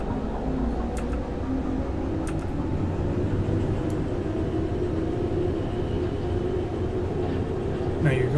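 A locomotive in the Derail Valley train game pulling under throttle, giving a steady, even rumble of engine and rolling wheels with a few faint metallic clicks over the top.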